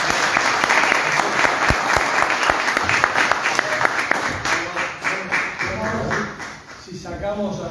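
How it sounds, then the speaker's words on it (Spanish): An audience gives a speaker a farewell round of applause at a pension reform talk: dense, loud clapping that thins into scattered claps, then talk resumes at the end. "despedirlo con un aplauso."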